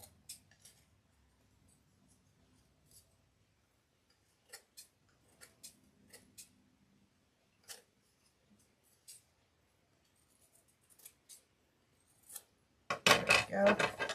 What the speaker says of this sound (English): These are my fabric scissors.